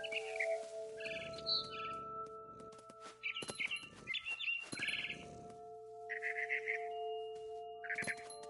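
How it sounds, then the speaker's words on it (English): Barn swallow chirping outside a window in a video game scene: bursts of bright, quick chirps and twitters in separated phrases against a quiet background with steady tonal hums. "Then I heard chirping outside my window. It was a barn swallow going back to her nest."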